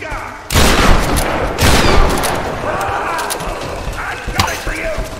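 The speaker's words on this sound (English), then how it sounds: "I'm gonna equip my machine gun too." Machine gun fire erupts in a Tomb Raider game, loud sustained bursts of rapid shots starting abruptly, then continuing with scattered impacts and mechanical clatter, a voice talking over parts of it.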